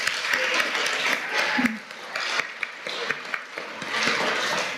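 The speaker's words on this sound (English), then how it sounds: "give our science scholars a round of applause" Sustained applause from a crowd at a fifth-grade school awards ceremony, dense clapping rising and falling in waves, with a few voices faintly underneath.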